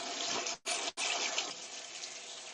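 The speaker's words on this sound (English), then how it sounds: "we're going to pass it through some cold running water" Cold tap water pours steadily over food held in a kitchen sieve, a broad close hiss that cuts out twice briefly before running on without talk.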